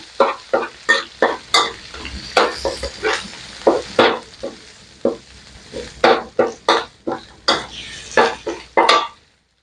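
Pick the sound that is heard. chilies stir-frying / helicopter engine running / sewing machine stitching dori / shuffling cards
chilies stir-frying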